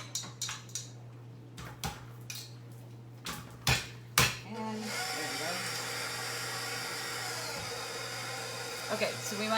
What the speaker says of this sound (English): I'm gonna put this in my mixer now, mix it on medium speed for 2 minutes